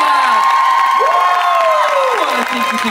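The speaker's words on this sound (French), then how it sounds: "On les applaudit bien fort" Loud crowd applause at a panel with Caterina Scorsone, E.R. Fightmaster and KaDee Strickland, full of cheers and rising, falling whoops from many fans, sustained and close.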